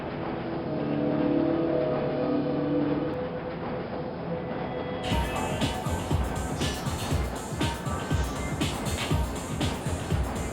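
Tram ride in the video game Half-Life, a rumbling rail vehicle with a steady low hum that turns into rhythmic clattering of wheels on track, moderately loud and continuous.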